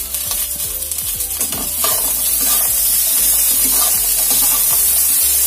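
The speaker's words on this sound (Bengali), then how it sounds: "আবারও 2 থেকে 3 মিনিটের মতন সবজিগুলো ভেজে নেব।" Radish and cauliflower stems frying in a pan, a steady loud sizzle with repeated scraping stirs throughout, no voices.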